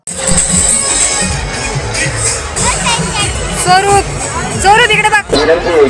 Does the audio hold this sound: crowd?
yes